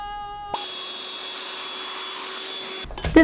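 A power drill with a regular drill bit whirs steadily through wood for a couple of seconds, starting and stopping abruptly, followed by a short clatter.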